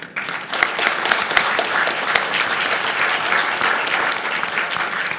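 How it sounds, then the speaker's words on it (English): A conference audience at the APNIC48 Policy SIG session applauds with steady, dense clapping that holds evenly for several seconds, close and full, with no voices over it. "So please, a round of applause for Adam"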